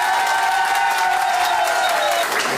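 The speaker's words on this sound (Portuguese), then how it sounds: "Palmas são sempre bem-vindas." An audience bursts into steady, dense applause with some cheering for a chef introduced at a cooking duel, the clapping loud and continuous throughout.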